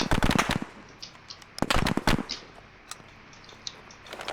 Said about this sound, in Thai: รถศัตรูยิงมา